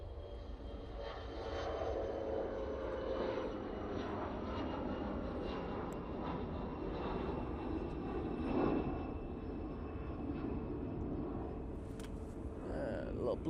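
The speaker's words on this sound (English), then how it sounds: "Little Bombardier Challenger." A Bombardier Challenger business jet at Manchester Airport makes a sustained, moderately distant engine roar that stays fairly even, with someone talking over it.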